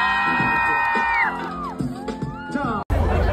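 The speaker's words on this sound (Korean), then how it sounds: "큰 박수 부탁드리겠습니다." A crowd at a Trix judge dance showcase cheers and whoops loudly, with high shouts and scattered claps that rise and fall and end in a sudden loud burst.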